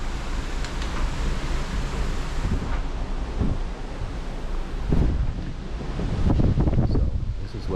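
Wind gusts and rushing ocean waves heard from a cruise ship balcony in the mid-Atlantic, a steady broadband roar with surges of surf and wind buffeting the microphone throughout.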